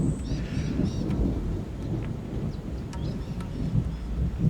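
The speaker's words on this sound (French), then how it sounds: "oh, le tonnerre a fait vibrer la maison" Low rumbling thunder from a storm rolls continuously, with a steady wash of rain and faint higher crackles above the deep roar, moderately loud and without voices.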